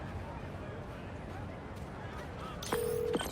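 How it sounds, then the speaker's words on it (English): A phone in the video game Marvel's Spider-Man 2 rings once near the end, a short electronic tone over a low ambient game soundscape. "Sounds like somebody's phone."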